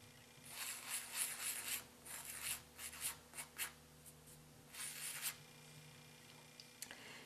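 Glitter is rubbed by hand onto a sheet of paper, giving soft, papery scratching strokes in uneven bursts over several seconds before tapering to near quiet, close and fairly faint.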